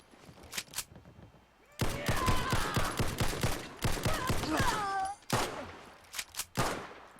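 Rapid gunfire from a Beretta M9-FS pistol at gunners in Fallout 4, sharp shots fired in quick bursts with short pauses between them.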